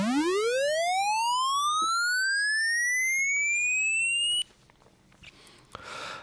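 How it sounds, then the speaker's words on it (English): Synthesizer square wave tone with a hollow, buzzy character, rising steadily in pitch in a loud sustained sweep for about four seconds, then cutting off abruptly, leaving faint background noise. "or we could use a square wave, which has kind of a hollow sound."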